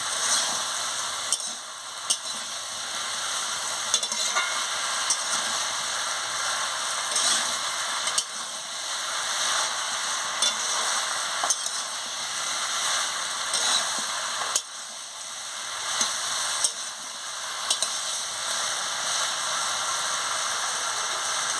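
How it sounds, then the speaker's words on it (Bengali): Prawns cook with raw pumpkin and vegetables in a pan for a Bengali chorchori, giving a steady sizzle broken by periodic stirring clatters and scrapes, with no one speaking. "চিংড়ি মাছ দিয়ে ভালো করে কষিয়ে নিচ্ছি আনাজের সঙ্গে"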